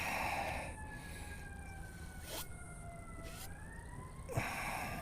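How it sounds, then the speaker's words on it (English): A distant siren wails with a slowly falling pitch, faint and steady, during a yoga class, interrupted by a few sharp rustling bursts close to the microphone. "Uh-oh. Siren."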